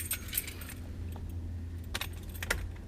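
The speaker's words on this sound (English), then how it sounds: "which I need to get my keys out of my pocket." A bunch of keys jingles as it is pulled from a pocket beside a 2016 Toyota 4Runner TRD Pro, with short bright rattling bursts over a low, steady background hum.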